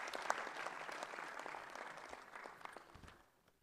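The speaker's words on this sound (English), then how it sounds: "I want us to clap for them" Guests at a luncheon for sports medalists clap in a moderate, fairly distant patter that thins out and fades to near silence over a few seconds.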